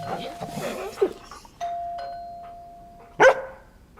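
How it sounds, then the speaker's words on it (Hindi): A dog gives a short, sharp bark right after a long, sustained doorbell chime rings out at a gate, with voices talking earlier in the scene. "ऐसे नहीं भौंकते हैं"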